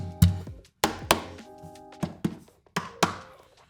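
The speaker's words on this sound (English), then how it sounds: "if you drum on the guitar, if you bang on it like this," Hands thump and slap on the wooden body of an acoustic guitar in an uneven rhythm, about nine sharp hollow knocks with ringing string resonance.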